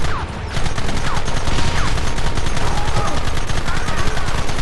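Gunfire in the Red Dead Redemption video game, a dense barrage of rapid overlapping shots that stays loud and continuous for several seconds, with no clear speech.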